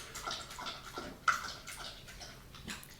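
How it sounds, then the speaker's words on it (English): A bulldog laps up drinking water with a run of wet, smacking licks, close and fairly quiet, with one sharper splash partway through. "Loud licking. Didn't know you were going to get some dog ASMR"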